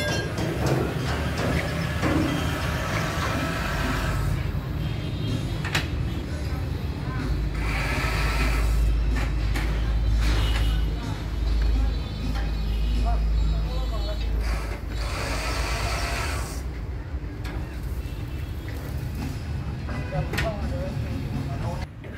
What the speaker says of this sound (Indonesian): ini adalah pompanya kita pompa dulu ya pompa sampai padat